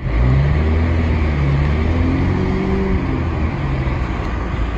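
A car drives through a snowy mountain town, with a steady, close engine drone and road rumble throughout and some faint low tonal hum, with no voices.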